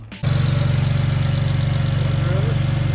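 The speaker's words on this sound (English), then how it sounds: "it makes a lot of sound from the turbos. You can hear the turbos spooling up." BMW 335i with a twin-turbo engine and dual cone intake idling steadily up close, a loud, even low rumble with a faint rising whistle as the turbos spool, starting abruptly after a brief quiet moment.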